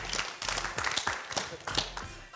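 Scattered clapping from a small audience at a talk on youth and alcohol, a few hands tapping unevenly for about two seconds, fairly faint and close with no voices over it.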